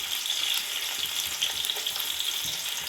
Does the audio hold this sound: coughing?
no